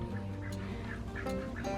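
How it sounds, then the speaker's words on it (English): Ducks at a farmhouse, heard from under a lean-to, give a steady run of nasal quacks and clucking calls that repeat close by across the whole stretch, with no talking. "Of course, there's the ducks"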